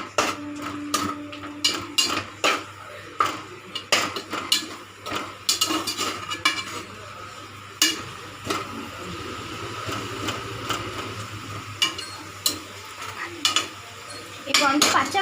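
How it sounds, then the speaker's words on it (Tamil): Ginger garlic paste sautéing in a pan, irregular clanks and scrapes of a spatula against metal over a faint sizzle, close and fairly loud. "இஞ்சி பூண்டு பேஸ்ட் ஸ்மெல் போகிற வரைக்கும் நல்லா வதக்கிட்டு"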